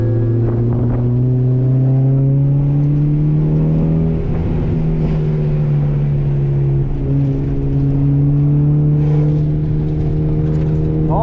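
A JDM Honda Accord Euro R accelerates hard around the Hampton Downs race track, its engine note loud and close, sweeping steadily upward through the revs with brief dips at gear changes.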